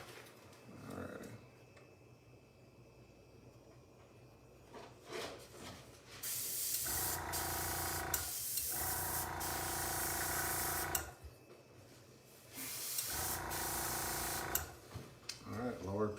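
A paint spray gun sprays white paint onto an RC car body at low pressure, around 15 psi. Several loud, hissing bursts of several seconds each are separated by brief pauses, with quieter handling noise between them.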